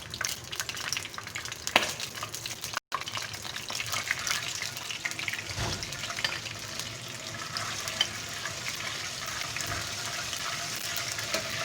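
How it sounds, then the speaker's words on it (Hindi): Cumin seeds fry in hot oil with a steady, close sizzle and crackle that runs almost unbroken, with brief stirring scrapes, a short dropout and no talking. "एक मिनट हम लोगों ने ज़ीरे को फ्राई करना है।"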